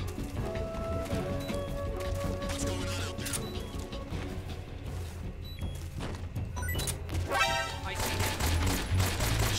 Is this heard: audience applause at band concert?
no